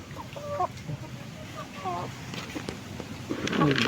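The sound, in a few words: chickens clucking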